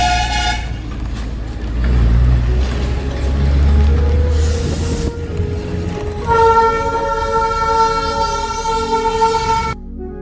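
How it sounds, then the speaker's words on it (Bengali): The Darjeeling Himalayan toy train passes close by near Ghoom station on a mountain street, its engine rumbling heavily before a long, loud horn toot sounds near the end. "সামনে দিয়ে টয় ট্রেন যাচ্ছে।"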